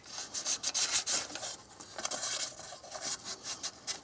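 Hand sanding on metal with 1500 grit sandpaper on a 2001 QX4 engine part, a quick rhythmic series of close scratchy rubbing strokes.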